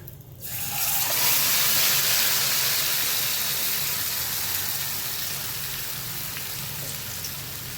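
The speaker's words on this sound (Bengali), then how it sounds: "তখন আমি এটাকে ম্যারিনেট করা চিকেনটাকে আমি এটার মধ্যে ঢেলে দেবো" Marinated chicken hits a hot pan of cumin and bursts into a loud, sudden sizzle. The sizzle settles into a steady, close hiss that slowly eases.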